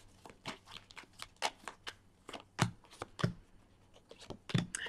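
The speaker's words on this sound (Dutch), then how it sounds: "Zal ik kaarten schudden om te kijken wat deze week voor jou gaat brengen?" Tarot cards being shuffled by hand, a run of crisp, close riffling and tapping bursts in an uneven rhythm with no speech over them.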